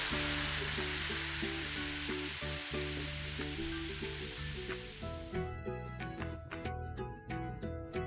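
Cheese balls deep-frying in a fryer, a steady crackling sizzle of hot oil that thins toward the end as clinks and clatter take over, close and fairly quiet.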